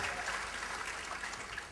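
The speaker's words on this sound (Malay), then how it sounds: "tepuk tangan." An audience at a religious New Year gathering claps in a dense, sustained burst of applause that fills the hall, continuous and fairly loud with no speech on top.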